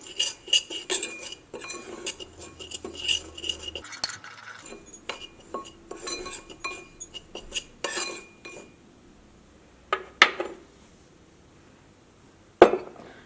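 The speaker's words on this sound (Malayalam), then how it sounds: "ഇത് മൂന്നും കൂടിയിട്ട് നന്നായിട്ടൊന്ന് മിക്സ് ചെയ്യാം" Flour, baking powder and salt stirred together in a bowl for a homemade pizza dough, with a spoon clinking and scraping against the bowl in quick rhythmic bursts, then a few separate louder knocks, close by.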